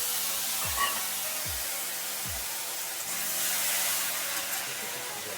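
Potatoes frying in a pan for a Bengali-style fish and spinach curry give off a steady, even hiss, with a few low thumps in the first half.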